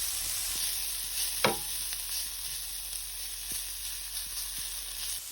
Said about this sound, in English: I'm just gonna turn that down, let that simmer for a few minutes.